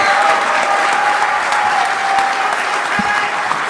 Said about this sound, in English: All right, huge round of applause for Tater, a.k.a. Michael Sontag, your 2023